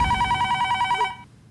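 A telephone bell rings in a domestic TV-comedy scene, a rapid trilling burst of bright repeated tones that cuts off abruptly after about a second, heard alone without speech.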